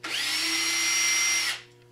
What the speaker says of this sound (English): I put it on a lathe and drill it up